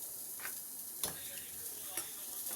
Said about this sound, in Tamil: கருவேப்பிலை உளுத்தம்பருப்பு கடுகு பெருங்காயம் தாளித்து இதில் போட்டுக்கலாம்